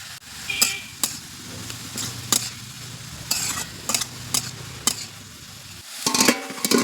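A spatula clatters and scrapes repeatedly against a pan while radish greens, garlic and onion fry underneath with a low sizzle, the stirring strokes coming in irregular bursts up close.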